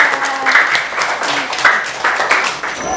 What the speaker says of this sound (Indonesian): Oke, tepuk tangannya.